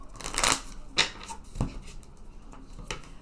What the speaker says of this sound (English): I be having a hard time shuffling cards